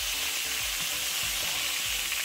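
Sausage frying in a pan, a loud continuous close sizzle with faint low knocks underneath, steady and unbroken, with no voices.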